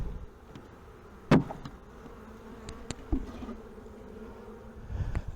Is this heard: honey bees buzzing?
yes